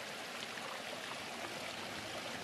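Water from hillside tunnels runs in a steady, close stream, a constant rushing flow with a light trickling texture and no pauses.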